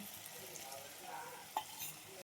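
Curd being stirred into okra curry in a frying pan, with a soft steady sizzle and scraping stir sounds, close and fairly quiet, with one brief louder clink of a spoon against the pan.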